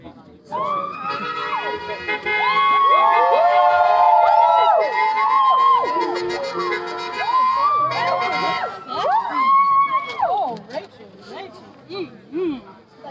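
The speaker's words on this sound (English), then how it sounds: "A lot of people driving by honking, showing love." Several passing vehicles sound long horn blasts and siren-like wails at a protest crowd outside the Klamath Falls BLM office, the tones rising and falling loudly through most of the scene over crowd noise and voices.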